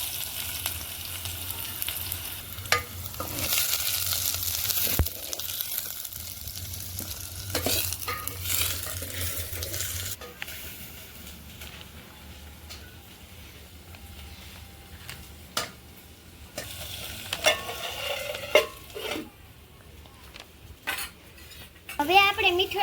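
Mustard seeds, cumin and chopped onion fry in hot oil, a continuous sizzle broken by repeated clinks and scrapes of a spoon against the pan, close up with no talk.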